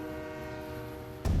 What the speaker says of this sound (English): Freight trains still ride these rails